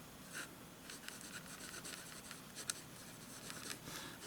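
A German Super5 roller ball pen glides across paper, faint soft scratching strokes in short repeated passes, quiet and close with no talk.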